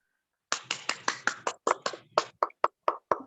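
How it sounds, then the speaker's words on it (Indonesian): A class claps together over a Zoom meeting, a burst of uneven hand claps that starts strong and thins into scattered, separate claps over about three seconds, with no talking. "tepuk tangan untuk kelompok 1"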